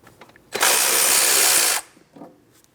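A power tool removing strut mounting bolts on a 2003-2007 Cadillac CTS front suspension during an upper control arm replacement, one loud, even whirring burst of just over a second, with quiet before and after.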